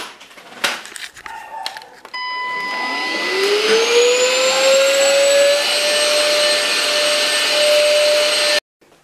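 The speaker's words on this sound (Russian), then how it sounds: "Ладно, пылесос беру в зубы." Clicks and handling, then a vacuum cleaner switches on, its motor whine rising to a loud steady roar before cutting off abruptly.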